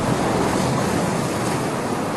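Sea waves wash against the shore at sea level below the lower floor of a two-storey seaside mansion, making a constant, dense, loud roar with no voices.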